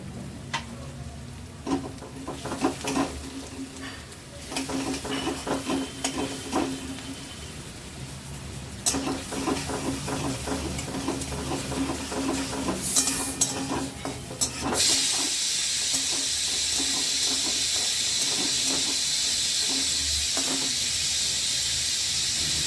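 Grated garlic sizzling in a hot pan, with soft crackling and faint stirring clicks at first, then a steady louder hiss of frying that holds to the end.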